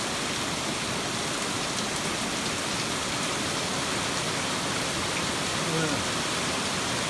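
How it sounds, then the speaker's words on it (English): Heavy rain pours steadily outdoors, a dense, even hiss of drops hitting surfaces that holds at a constant level throughout with no other sounds. "I can hear it raining harder now"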